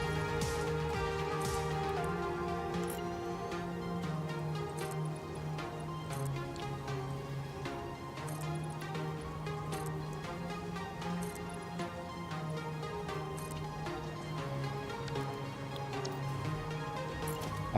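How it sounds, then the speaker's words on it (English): Rain falls in a video game as an even patter that runs the whole way through, layered over game music and sharp ticking sounds. "Oh, I love the rain so much."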